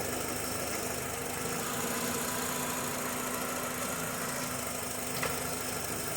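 A 2003–2007 Honda Accord engine idles steadily and close up with a constant hum and light vibration while being shifted through gears, with one faint click near the end and no talking.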